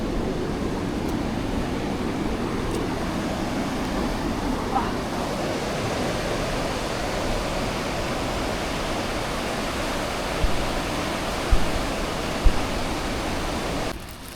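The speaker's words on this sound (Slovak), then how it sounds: "A tam sú mega vlny." Big ocean waves roll onto a beach on the north coast of Fuerteventura, a continuous broad roar of surf with no clear breaks, steady and fairly loud.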